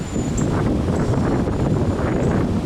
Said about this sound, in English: Oh man, listen to that wind.